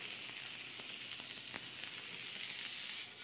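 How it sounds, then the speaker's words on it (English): Onions and pecans fry in a pan for a Coca-Cola barbecue sauce with a steady, close hiss and scattered small crackles throughout, and no one speaks. "the onions have had a little chance to go. You can hear it going with our pecans."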